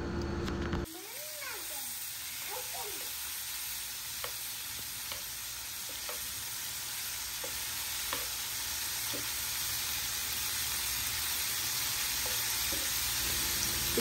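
Prawns for a Mangalore-style ghee roast frying in about two tablespoons of oil in a pan: a soft continuous sizzle with occasional clicks of stirring, fairly quiet and close, no talk.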